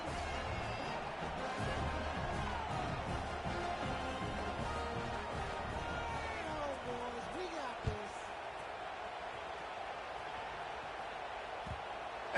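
A stadium crowd in College Football 26 keeps up a broad, steady murmur, with a thud near the middle and the rumble fading a little toward the end.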